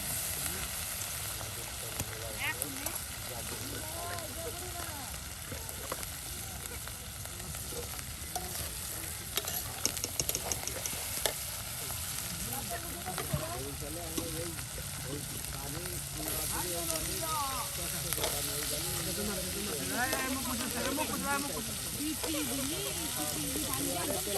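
Spice masala is fried and stirred in a pan in a village kitchen, with a continuous close sizzle, repeated scraping stirs and voices talking in the background.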